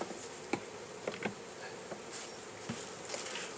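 Honey bees buzz around an opened hive during a hive split outdoors, a dense, constant hum with occasional nearer passes and light taps, no voices.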